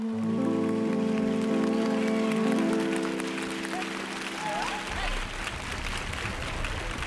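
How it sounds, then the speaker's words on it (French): A crowd applauds warmly as a sung musical performance on a broadcast ends, the held notes fading and giving way to a sustained wash of clapping, with a voice speaking over it. "On applaudit fortement cette prestation de notre ambassadeur Sadik"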